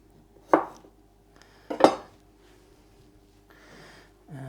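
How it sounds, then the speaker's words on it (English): A kitchen knife cuts the tip off a carrot on a cutting board during a Sunday meal-prep session, giving two sharp, close knocks about a second apart, followed by a faint scrape and a brief clatter. "So I'm just going to cut the tip off."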